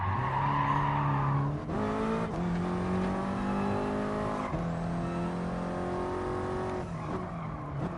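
An Alpine A110 in Gran Turismo Sport, its engine droning steadily with pitch shifts through gear changes while the tires squeal under cornering, loud and continuous with no talk.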